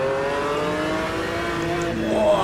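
A race car engine in Automobilista 2 drones steadily and then rises in pitch as it accelerates, loud and continuous, with a faint tire squeal near the end.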